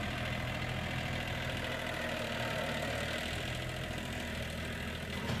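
A steady engine idles nearby with a low, constant rumble and slight knocking vibration, unbroken for the whole stretch.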